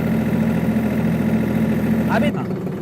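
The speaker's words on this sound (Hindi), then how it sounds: "इंजन आरपीएम 1840 रख रहा हूँ और पीटीओ में पीछे आपको 540 मिल रहे हैं" Tractor engine held at 1840 RPM with the PTO engaged, a loud, steady, close diesel drone with strong low harmonics that drops off abruptly near the end.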